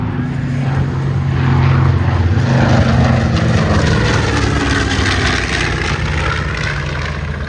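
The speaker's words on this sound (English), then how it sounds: "Down again from the left, 300 miles an hour. Here's the B-25." B-25 propeller bomber flying past at an airshow, a loud sustained droning roar of piston engines that swells and shifts in pitch as it passes.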